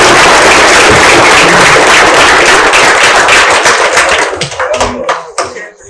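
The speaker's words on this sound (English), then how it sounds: "Let's give a round of applause." An audience at a political candidate forum claps loudly and densely, and the applause gradually thins and fades out over the last second or two.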